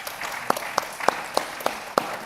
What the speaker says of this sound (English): I think that is worth a round of applause.